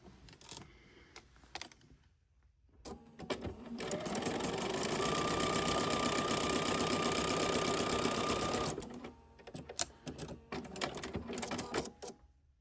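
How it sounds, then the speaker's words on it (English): A sewing machine stitching a Dresden quilt block runs in a steady loud whir for about five seconds, framed by clicks and handling noises before and after. "So now all I've got to do is sew this piece in here and then sew this piece here to complete the circle."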